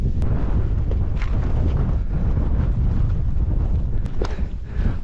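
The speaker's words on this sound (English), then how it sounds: "a little bit windy" Wind buffets hard across an exposed Lake District fell route over Grasmoor and Whiteside, making a constant loud roaring rumble with gusty fluctuations and no voices.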